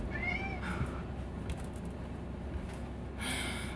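A house cat gives a rising meow and then a shorter second one, close and clear over a steady low room rumble, followed by faint rustling and a breathy burst near the end, with no talk.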